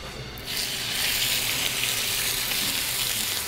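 Chicken pieces sear skin side down in a very hot pan for coq au vin, a loud, steady, close sizzle that swells after a brief quiet start and holds evenly, with no voices.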